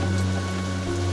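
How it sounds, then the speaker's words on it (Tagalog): Steady hiss of rain, with a constant low hum underneath and no voices. "ni paduol ang ulan"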